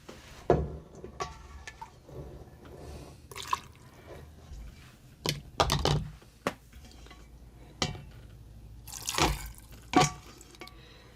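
Hot water poured into canning jars in bursts of splashing and trickling, mixed with soft clinks of glass and utensils, close and fairly quiet with pauses between pours.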